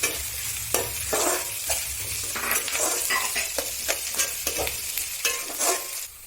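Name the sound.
green chilies frying with onions in a pan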